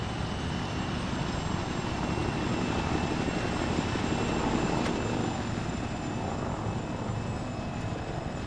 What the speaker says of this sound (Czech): vezmeme tam tu respawnovací helikoptéru